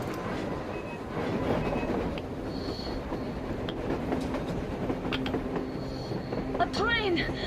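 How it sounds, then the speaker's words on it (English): A train moves across open ground in the video game Metro Exodus, a steady rumbling roll with clacking and a squeal near the end, heard under a busy game soundscape. "A train! A damn train on the surface!"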